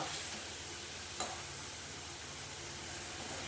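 A steady, quiet sizzle of garlic frying in oil, with a single faint tap partway through.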